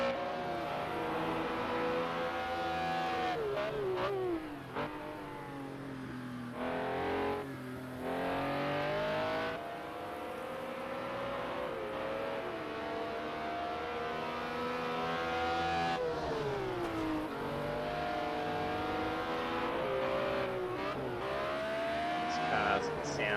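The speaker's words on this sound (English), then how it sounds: "Cars sound fantastic, screaming out there." BMW M1 Procar race cars screaming around Oulton Park International in a racing video game, engines wailing continuously and shifting pitch through gears for the whole stretch, with a commentator talking over the top.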